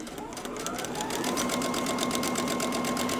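A sewing machine runs at a steady fast pace stitching a paper-pieced quilt block, its rapid needle chatter and motor whine close and continuous.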